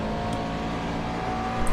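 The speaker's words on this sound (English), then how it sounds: "Sounds like I had a hint of traction control coming out of left field there" A McLaren GT race car in iRacing at Silverstone, its engine holding a steady loud drone with a slight surge at the very end as traction control cuts in, no voices.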